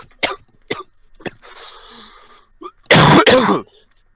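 Several sharp throat-clearing coughs ring out close by, spaced in short bursts, then a loud doubled cough ends the sequence; faint background murmur fills the gaps.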